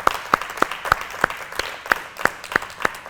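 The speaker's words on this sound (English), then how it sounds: "can we have a round of applause for our guest speakers this evening as well?" Sparse applause for guest speakers at a business Q&A evening, a few distinct hand claps spaced roughly every third of a second standing out over a soft bed of quieter clapping.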